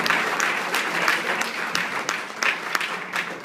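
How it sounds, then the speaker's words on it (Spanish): A church congregation claps loudly together in steady, dense applause that holds for several seconds, with no talking over it. "Un aplauso fuerte para el Señor Jesús en este momento"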